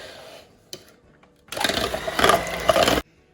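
Caster sugar is whisked with what sounds like an electric whisk, a steady mechanical whirr starting after a brief clatter and running loudly for about a second and a half before cutting off abruptly.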